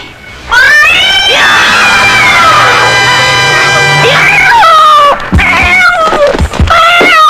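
A cat yowls in a long, wavering, high cry in an Indian horror film scene, loud and close, mixed with shrill shouting and a crowd-like din, then breaks into shorter cries near the end.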